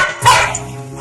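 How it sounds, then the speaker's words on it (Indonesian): An angry dog barks once sharply at a comb, a single close, loud bark followed by a brief fading whine-like tail. "Ia terus-menerus menggonggong dan menghindari sisir, seakan ia marah dengan sisirnya."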